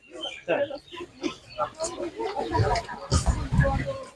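Large Landrace-cross piglets grunt and oink in short bursts close by at an animal market in Otyniia, busier toward the end, while people talk over them.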